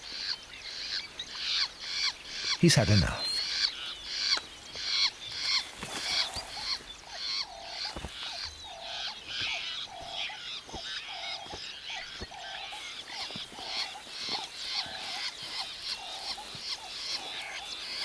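Fiscal shrikes squawk in the Serengeti, giving a steady run of harsh, repeated calls close by. A sharp burst near the start and a brief spoken line break in over the chorus.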